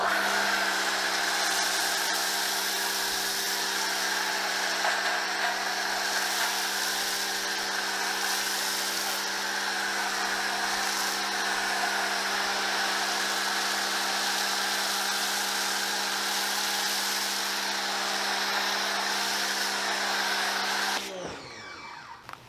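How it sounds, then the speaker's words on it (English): A Greenworks pressure washer sprays steadily through a MaxShine Snow Master foam cannon fitted with a 1.1 orifice, giving a loud, continuous high hiss and motor whine that holds for about twenty seconds and then cuts off abruptly. "We're hooked up to the Greenworks pressure washer."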